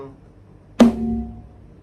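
One sharp stroke on a Thai taphon drum with both heads struck at once, giving a bright attack and a brief ringing tone that fades.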